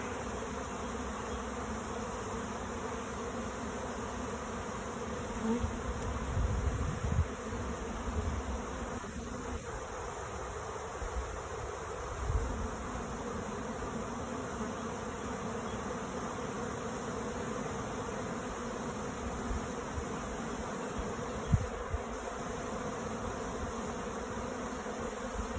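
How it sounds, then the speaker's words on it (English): A honey bee swarm gathering on a cedar tree makes a steady, faint, continuous buzzing hum outdoors, with a few soft handling bumps and no speech. "Now you can even see how many more bees are accumulating"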